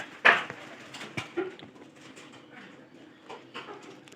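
Pigeons and pigeon chicks in a loft give soft coos and brief calls, with one sharper call near the start and quieter scattered sounds after, close by with no speech.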